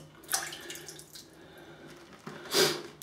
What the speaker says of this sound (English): I'm just adding a little bit more water